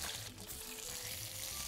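Fat poured off while demi-glace sauce is strained, heard as a quiet, continuous trickling pour over low background noise.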